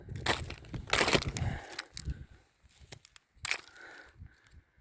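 Ice-glazed wheat and rapeseed leaves in a frozen field snap and crunch like breaking glass, in several loud, close bursts of brittle crackling separated by quieter pauses.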